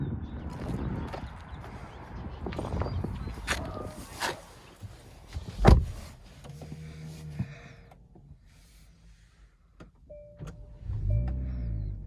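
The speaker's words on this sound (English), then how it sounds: "To lock and unlock the car, you have to click on this button, and when you do that, the mirror folds in." Power side mirror on a 2020 Genesis G70 folding in as the car locks, a soft electric motor whir after a sharp lock click, fairly close and moderately quiet with some background noise.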